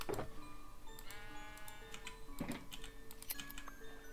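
Minecraft sheep bleats repeat several times over a steady background, with a light clicking like keyboard typing running underneath, no talking.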